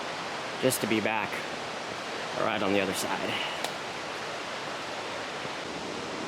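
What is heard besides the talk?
river rapids flowing over broken rock, Wisconsin River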